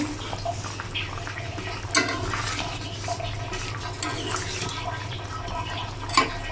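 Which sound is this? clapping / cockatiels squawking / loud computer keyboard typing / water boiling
water boiling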